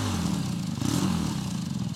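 A Harley-Davidson fitted with a J-Kill exhaust in mode 1 gives a brief, fairly quiet burst of throaty revving with a loping, uneven pulse.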